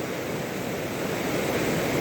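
Water sloshing in a gold pan during prospecting, washing fine silt off the material with a forward motion; a steady, close, broadband wash of water that swells slightly louder toward the end, with no talking.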